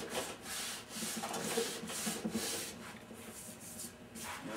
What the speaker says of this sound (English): Take a little fine sandpaper.